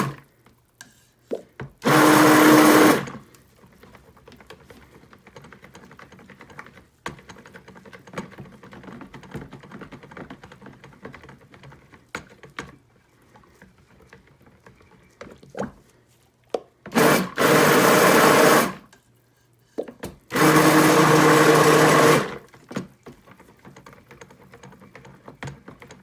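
A stick blender whirs loudly through paint in three separate bursts, one short and two longer, with quieter handling and tapping sounds from mixing in between.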